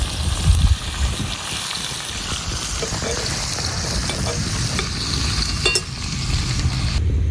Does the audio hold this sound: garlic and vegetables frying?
yes